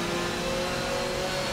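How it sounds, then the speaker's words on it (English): A BMW touring car in Forza Motorsport 7 gives a high, steady whine from straight cut gears over a constant engine drone, close and sustained, with no talk. "The sound of straight cut gears sounds so cool."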